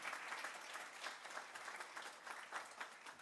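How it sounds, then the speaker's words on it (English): An audience gives a sustained round of applause, a steady, dense wash of many hands clapping that sounds faint and distant throughout. "let's give them a huge round of applause"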